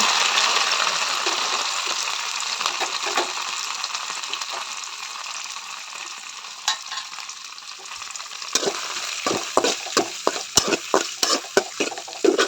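Onion sizzles steadily in a hot pan for a gobi dish, close and continuous, then a utensil stirs it in a run of quick scraping taps toward the end, with no talking.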